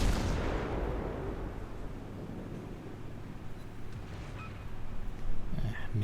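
Heavy-cruiser Myoko's naval guns fire in World of Warships: a loud boom opens, fades into a long low rumble with wind-like noise, and a smaller thump follows near the end.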